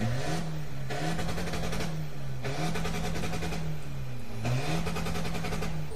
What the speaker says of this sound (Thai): ผมจะให้ทุกคนฟังเสียงรถคอกซิ่งคันนี้ก่อนว่าลั่นหรือเปล่าฮะ